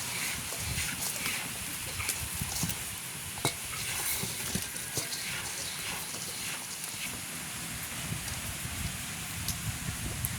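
Puttu flour being mixed by hand with chopped banana blossom in a village kitchen, a steady close rustling, crumbly scraping texture with scattered soft clicks, continuous and fairly even throughout, no talking.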